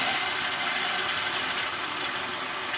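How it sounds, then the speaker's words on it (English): Thetford Aqua Magic II RV toilet being flushed, a steady rushing gush of water running throughout, close and fairly loud with no voices. "Go ahead and flush it again."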